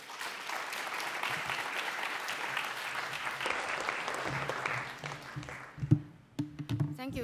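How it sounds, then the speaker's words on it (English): An audience at a structural biology breakfast workshop applauds in a dense burst that thins out toward the end, giving way to a few scattered claps and faint room sounds. "Another round of applause for him."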